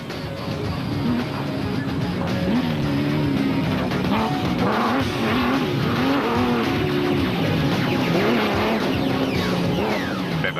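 A rally truck, a Castrol Toyota Hilux 4-litre or an Absolute Barlow World Ford Ranger, races at the Nissan Dealer 400 2007, its engine roaring loud and close with shifting revs and tire noise throughout.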